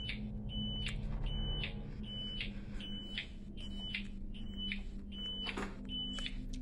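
An alarm in a room beeps over and over in a regular pattern, about one short high chirp every half second, sounding fairly close over a low steady hum of background noise.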